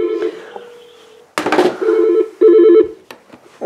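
Electronic telephone tones from a home PBX phone system sound in short bursts with brief gaps, close and clear, mixed with clicks from a phone line.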